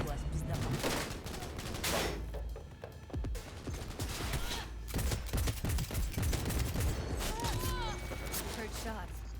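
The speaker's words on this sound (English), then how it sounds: "Heard shots." Gunfire crackles in the Cyberpunk 2077 video game in repeated sharp bursts and volleys, mixed with other game sounds and some talk.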